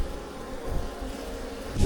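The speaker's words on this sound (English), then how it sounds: "look at this ball of bees" Honeybees buzzing around a hive clustered in a ball, a steady close hum with a louder swell at the end.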